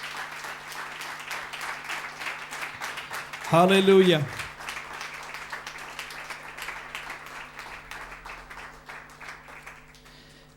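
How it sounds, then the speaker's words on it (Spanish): Church congregation applauds in praise during a worship service, steady clapping throughout with a voice briefly calling out loudly in the middle over it. "Ese aplauso es de alabanza para el Señor."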